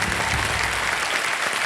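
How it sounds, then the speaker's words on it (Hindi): Studio audience on the KBC Season 15 quiz show set breaks into steady, dense applause, a continuous wash of clapping filling the whole moment without any voice over it. "ताली बज जाए"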